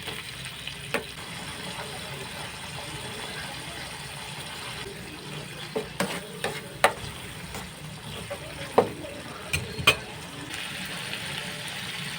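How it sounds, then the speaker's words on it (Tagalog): Corned beef being sautéed in a pan gives a steady low sizzle, broken by several sharp clicks and utensil taps spread across the middle and end. "Igigisa ko na lang yung corned beef"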